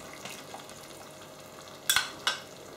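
A spoon stirs sour cream into cabbage in a pan, faint soft sizzling under a couple of sharp scraping clinks near the end.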